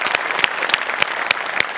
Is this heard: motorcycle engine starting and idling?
no